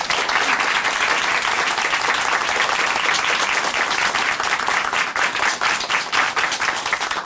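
Steady, sustained applause from an audience at a church testimony program, dense and full throughout without a break.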